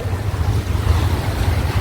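Sea waves at high tide along the Bandra shoreline in Mumbai, a steady low rumbling wash mixed with gusty wind buffeting the microphone, continuous and fairly loud with no talking.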